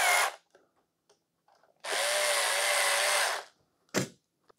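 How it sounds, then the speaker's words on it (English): A power drill tightens the screws on a blank plate adapter covering a former light switch, with a short buzz, then a long steady whirr of about a second and a half, and a final brief burst, all close and loud. "Now we can simply tighten these screws down."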